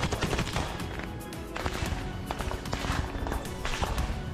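Gunfire from small arms suppressing Russian infantry at the Bakhmut canal front line in the Russia–Ukraine war, dense rapid cracks and bursts overlapping continuously, loud and close with a rough, clipped field-recording quality.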